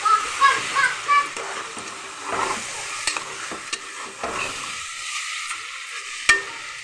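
Left-over rice biryani mixture with curd and chili sauce being stirred in a pan, a spoon scraping in uneven strokes over a soft sizzle, close and clear with no talk.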